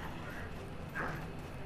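Horse hooves clip-clopping in the video game Black Desert Online, a steady rhythmic trot under constant game background noise with a brief louder burst midway.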